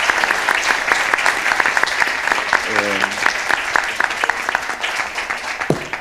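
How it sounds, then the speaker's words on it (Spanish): An audience at a talk applauds in steady, dense clapping that fills the room for several seconds, with a voice briefly audible underneath. "Quiero que por favor cerremos con un aplauso y agradezcamos la presencia de todos."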